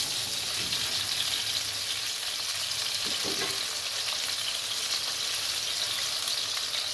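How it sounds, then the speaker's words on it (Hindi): Arbi (taro root) pieces frying in hot oil for an arbi baingan dish, a steady close crackling sizzle throughout with a few soft stirring knocks, no voices. "इस अरवियों को आपने इतना फ्राई करना है कि इसके अंदर से इसका कलर चेंज हो जाए।"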